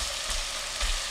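Onion sautéing in a pan for spaghetti bolognese, a steady close sizzle and crackle of frying that runs unbroken and fairly loud throughout, with no voices.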